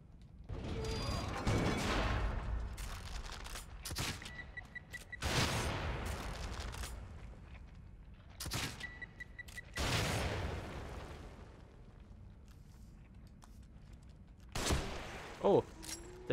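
Weapon fire in the survival horror video game The Evil Within, with several loud broad bursts spaced a few seconds apart, each followed by a decaying tail, over low game ambience, with a short sharper hit near the end.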